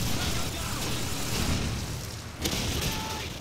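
Airstrike explosions in Call of Duty 4 rumble as a heavy, sustained roar of booming blasts, dense and loud throughout with one sharper impact near the end, and no talking.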